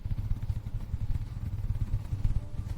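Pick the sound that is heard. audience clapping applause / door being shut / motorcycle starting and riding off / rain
motorcycle starting and riding off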